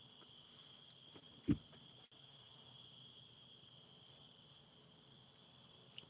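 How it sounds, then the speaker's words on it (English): Crickets chirp steadily outdoors on a hot day, a continuous high insect trill that stays faint and even, with a single soft thump partway through and no talking. "Bugs are definitely out."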